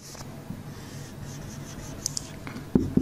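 Chalk or marker scratching on a board during a circuit lesson, soft steady strokes close by over a low room hum, ending with a couple of sharper taps.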